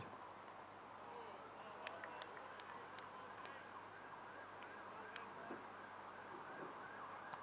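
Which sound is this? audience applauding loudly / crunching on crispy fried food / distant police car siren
distant police car siren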